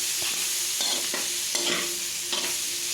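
Pork fat being sautéed and stirred in a pan for chocolate meat (dinuguan), a steady close sizzle with a few utensil scrapes and taps against the pan, no talking.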